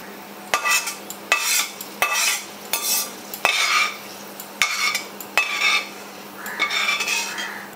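Golden fried onions lifted out of a pan of hot oil with a metal utensil: a run of sharp clinks and scrapes against the pan at an uneven rhythm, over faint sizzling, with no voices.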